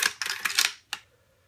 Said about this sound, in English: And now the bolt rides back a lot smoother